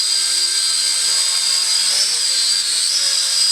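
A small drone with altitude hold flies close by, its rotors producing a loud, constant high whine that rises and dips slightly in pitch as it moves, with no talk over it.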